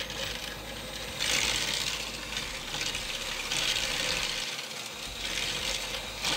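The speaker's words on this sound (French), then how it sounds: "Je fouette au batteur électrique." Electric hand mixer whisks egg yolk, sugar and lemon juice in a bowl, giving a steady whirring buzz that swells and eases in waves as the beaters move, with no talking.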